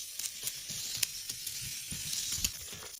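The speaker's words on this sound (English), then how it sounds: "The fat sizzles in the pot, rendering out a lot of oil in no time." Pork fat sizzles steadily in a pot, a constant bright hiss broken by small pops and crackles, close up with no talking.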